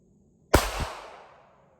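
A single sharp gunshot from a Davis D-32 Derringer pistol, fired two-handed at a target, cracks loudly once and decays over about a second with a faint echo.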